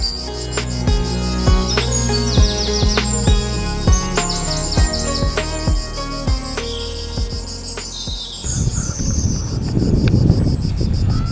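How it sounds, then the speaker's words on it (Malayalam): Birds chirp and call with insects trilling steadily in a green Wayanad forest in Kerala, a dense, close chorus of repeated tweets and whistles that gives way to a rougher rustling texture near the end. "കിളികളും ചീവീടുകളും ചേർന്നൊരുക്കുന്ന മാജിക്കൽ സിംഫണി യാത്രയിലുടനീളം പിന്നണിയിൽ മുഴുങ്ങിക്കേൾക്കുന്നു"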